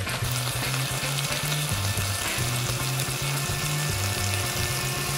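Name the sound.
stir-frying chicken breast with perilla leaves in a pan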